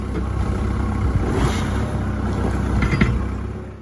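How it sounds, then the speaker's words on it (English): A heavy forklift engine idles and revs with a steady low rumble while popping a tyre off its rim on a farm, mixed with mechanical clunks and some wind noise, close by. "Now we'll use the forklift just to pop the tyre off the rim"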